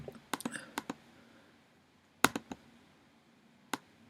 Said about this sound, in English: I could double click that to open it.